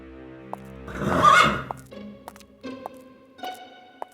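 A horse neighs loudly up close in a long whinny, followed by softer snorts and a few light hoof knocks.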